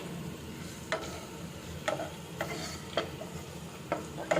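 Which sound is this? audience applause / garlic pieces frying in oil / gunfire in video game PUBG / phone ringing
garlic pieces frying in oil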